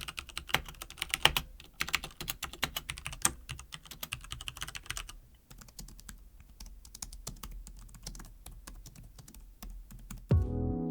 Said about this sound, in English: The keys have got a nice texture to them, a nice responsiveness about them, easy to type on